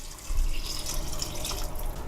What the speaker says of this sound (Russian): Добавляю 800 миллилитров воды.